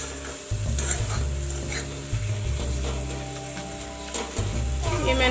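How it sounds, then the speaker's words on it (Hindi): Spices frying and being stirred in a kadhai, a steady close sizzle with scraping stirs and clinks, while a child plays and makes noise in the background. "फ्राई करूंगी सारे मसालों को।"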